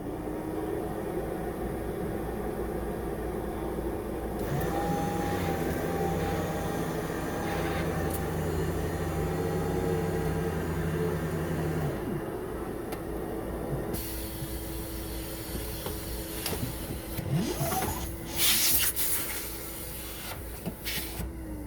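A central vacuum system with a battery-powered power head hums steadily at close range, its motor tone shifting partway through as the hose retracts into the wall, with faint rattling and whirring near the end.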